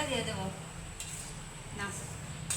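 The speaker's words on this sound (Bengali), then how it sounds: "আমি সুজিটা ভেজে নিচ্ছি ভালো করে" Semolina (suji) is dry-roasted and stirred in a pan, with soft scraping and a few faint metallic clinks of the utensil against the pan, heard close and quiet.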